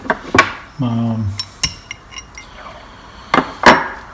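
A flare nut wrench clinking against paint-caked nuts and bolts, with a few sharp, close metallic taps and rattles and a brief hum-like voice sound in between.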